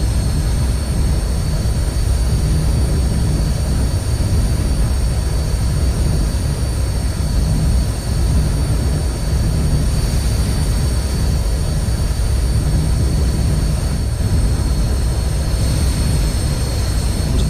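An MB-339 jet trainer in the DCS World flight simulator, its engine holding a loud, steady roar with high whining tones during takeoff, continuous and close, with no talk.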